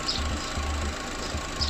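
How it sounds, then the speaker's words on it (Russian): A repaired B12D2 engine in a Ravon R2 / Chevrolet Spark, once fixed of an extraneous engine noise, idles steadily with a low, even hum and regular rhythmic pulses, close by and with no other sounds. "Как видите, мотор работает совершенно нормально"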